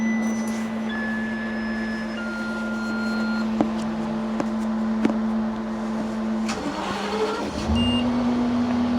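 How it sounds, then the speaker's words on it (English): School bus engine idling steadily with a constant low drone and tonal whine, a few clicks, then the engine note shifts and rises briefly near the end. "You turn the key to start the bus."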